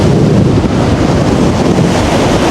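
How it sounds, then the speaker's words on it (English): Strong wind roars steadily across the microphone while riding a Gspace Mars 11 GTR, an 11,000-watt electric scooter, in windy, bad weather, a loud continuous rumbling buffet with no speech. "Even in this windy, terrible weather"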